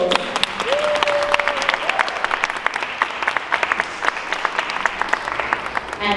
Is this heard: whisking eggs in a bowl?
no